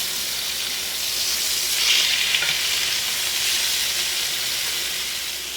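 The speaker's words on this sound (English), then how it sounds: "I'm letting it sear the other side over here with that remaining heat." A garlic pork loin sears in a pan on the remaining heat after the burner is switched off, making a continuous sizzle and frying crackle that swells slightly midway, with faint stirring or shifting underneath and no talk.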